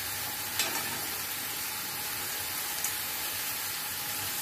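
Food frying in a pan over a high gas flame while being stirred constantly, a continuous close sizzle with occasional scraping taps, with no talking.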